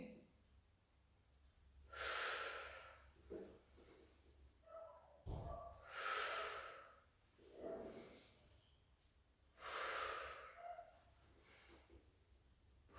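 Three deep, slow breaths during a Pilates exercise, each a long airy rush of inhaling and exhaling, evenly spaced with quiet pauses and faint softer breaths between them.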